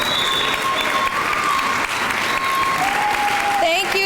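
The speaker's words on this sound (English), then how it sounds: "So let's give the mayor a big round of applause." An audience at a sixth-grade school graduation applauds the mayor, with a dense, close burst of clapping that holds steady for the whole stretch, while a few cheers and whistles rise above it.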